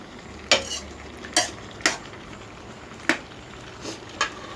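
Eggplant is stir-fried in a pot with a utensil scraping and clacking against the metal, giving about six sharp, irregular strikes over a quiet background of cooking noise, with no talk.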